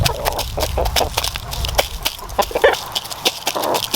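Backyard chickens about five months old cluck and scratch while being fed seeds, with soft repeated clucks and sharp pecking taps on wood close by, scattered irregularly over a steady outdoor murmur.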